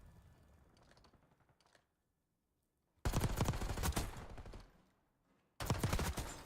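Pistol fire rings out in a Call of Duty esports match, with two loud bursts of rapid sharp shots separated by a short pause, following quieter background game noise.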